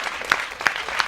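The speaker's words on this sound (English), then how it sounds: "I think we must maybe clap hands for them again." Audience clapping hands at a dialogue gathering, a quick short burst of dense applause with a few sharper claps standing out.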